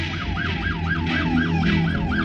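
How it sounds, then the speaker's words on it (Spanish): Ambulance siren, a loud, close, rapidly warbling yelp cycling evenly about four times a second, running continuously over a low road and engine hum with no talking. "Cuando llegó la ambulancia, Amy fue trasladada al hospital."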